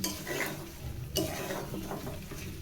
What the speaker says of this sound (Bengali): এগুলো মাংসের সাথে হালকা করে নেড়ে চেড়ে মিশিয়ে দিব